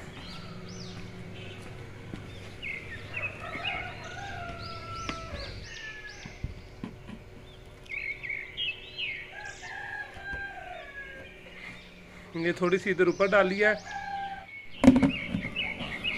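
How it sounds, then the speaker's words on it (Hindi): A backyard flock of hens and a rooster being thrown grain: the rooster crows several times, hens cluck, and wings flap in a loud flurry near the end, with a brief voice at one point. "तब तक मुर्गियों को दाना भी डाल देते हैं"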